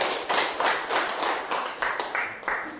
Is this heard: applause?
yes